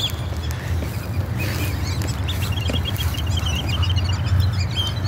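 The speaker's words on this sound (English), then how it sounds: "A lot of ducks now." A flock of ducks being fed in a park quacks and chatters steadily, many birds close by in a busy, continuous babble.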